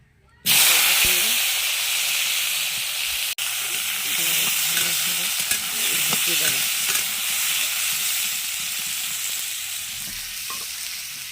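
Potatoes fry in hot oil in a kadai, a loud, steady sizzling hiss that starts abruptly and holds close and strong throughout, with faint clatter underneath.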